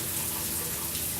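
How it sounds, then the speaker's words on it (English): A shower runs in a steady, dense hiss of spraying water, constant and close with no breaks. "so he has a quick shower."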